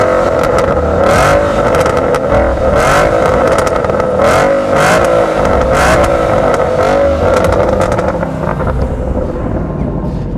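A Ford Mustang fitted with an aftermarket exhaust revs hard and close, giving a series of rapid, loud throttle blips over a deep rumble that settles toward a steady idle at the end.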